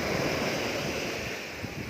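Sea waves wash onto Kae Kae beach in Panare, Pattani, on the Gulf of Thailand, a continuous broad surf roar with wind buffeting the microphone and no voices.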